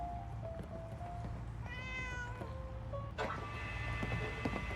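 A cat meows repeatedly in Fallout 4, its rising, harmonic calls standing out over a steady game ambience with background music and a sharper sound burst partway through; no one talks.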